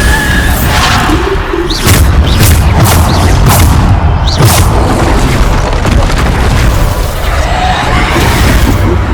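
Bombarda spell blasts in Hogwarts Legacy land as heavy booming explosions over a loud, continuous rumble of game effects, with crashes and bursts piling up close and dense throughout.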